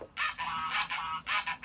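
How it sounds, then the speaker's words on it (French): Geese at a countryside guesthouse honk in a quick run of loud, nasal calls, five or six bursts close together and near, with no talking over them. "sinon les oies s'énervent"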